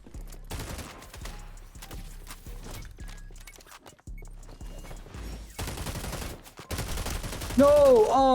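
Gunfire from an online shooter video game rattles in rapid bursts and fusillades throughout, mixed with game effects and a voice talking over the action.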